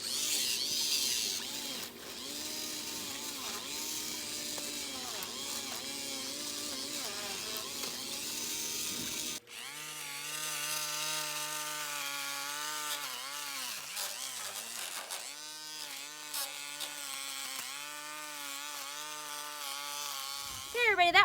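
Electric trimmer cutting on a homestead: a whining motor drone that rises and falls in pitch as it bites, with a brief break midway, heard under occasional talk.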